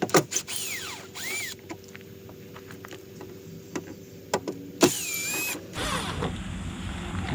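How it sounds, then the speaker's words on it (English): Plastic caps snapped out of a KIA Sorento trunk handle with a flathead screwdriver: a few sharp clicks and pops with scraping creaks in between, close and fairly loud, with no one talking. "just take a flathead screwdriver, pop these two little caps out"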